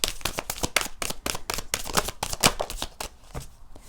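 Tarot cards riffle and snap in quick repeated bursts as a deck is shuffled and cards are drawn, close and crisp, with no voices.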